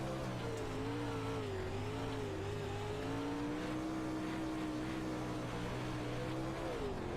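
Race cars lap an oval track, a steady engine drone holding through with slow pitch swells as the cars run near the wall, continuous and moderately distant with no voices.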